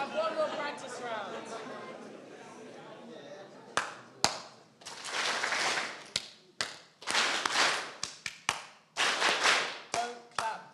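Group clapping a rhythm during a youth team practice round in Sierra Leone, with sharp isolated claps and short bursts of many hands, starting after a stretch of speech and scattered irregularly across the rest.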